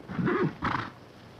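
A horse on a ranch-set television western neighs in two short, loud whinnying bursts close by, the first rising and falling in pitch and the second briefer, with no talking.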